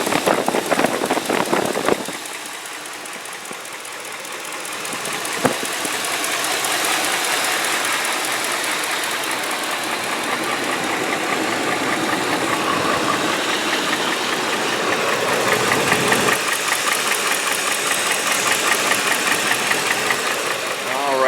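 A 2004 Ford Expedition XLT 4x4 with a 4.6 V8 runs steadily up close, a continuous broad engine rumble with a slight knocking texture. A sharp click and a brief dip in level break it near the start.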